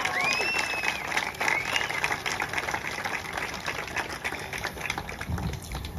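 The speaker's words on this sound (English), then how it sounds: "So big round of applause for all these guys and all the fantastic effort they've been doing." A crowd at the launch event for the Steel Taipan ride gives the team a dense, steady round of applause, with a few high whistles and cheers rising above the clapping.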